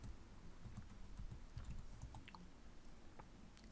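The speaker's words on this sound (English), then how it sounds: "if I type in make money" A search keyword is typed on a computer keyboard in a steady run of soft, quick keystrokes. The clicks are quiet and close, with no talking.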